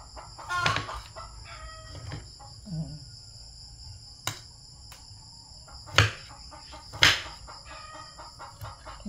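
Hens cluck in short bursts at irregular moments outdoors, with a steady high insect trill running underneath and no talking.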